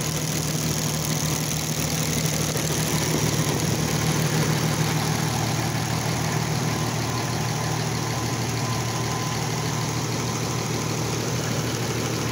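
An old engine idling after 23 years in a barn with the choke mostly out, giving a steady, loud, continuous low rumble with a faint irregular knock and no voices.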